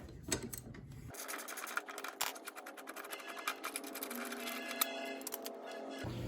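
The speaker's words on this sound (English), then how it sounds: "let's get the regular ratchet on it. Let's take it all the way off." A ratchet wrench clicks steadily as it backs a blade bolt off a Pulsar 21-inch push lawn mower, close-up, with rapid repeated metallic ticks and some handling noise over a continuous background hum.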